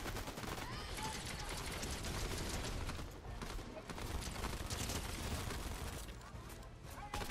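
Rapid gunfire aimed at the player in a Gwenpool-themed shooter game, dense bursts of shots crackling continuously at close range, with speech over it.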